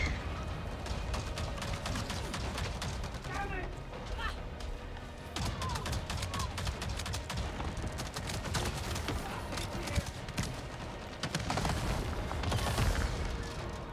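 Dense, continuous rumbling video game explosions and crackling bursts from Avatar: Frontiers of Pandora pile up throughout, loud and chaotic, with voices talking over the noise.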